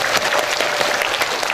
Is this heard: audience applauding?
yes